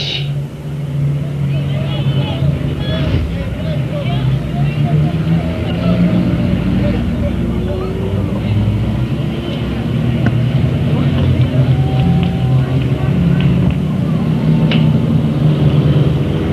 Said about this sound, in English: Now, coming out on the track is the Bomber class.